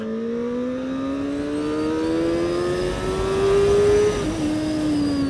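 A CFMoto 500 SR inline-four motorcycle accelerates smoothly, its engine note rising in a long climbing whine through the revs with a brief dip at a gear change, loud and close with wind rush behind.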